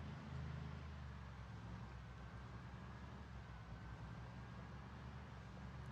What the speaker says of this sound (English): they're going to be distracted by the continuous noise of the car.